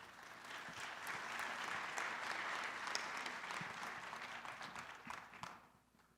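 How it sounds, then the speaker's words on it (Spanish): An audience at a mining conference applauds a speaker with a dense, steady wash of clapping that swells and then fades out, heard from a moderate distance in a large hall. "Un fuerte aplauso para Bruno, por favor"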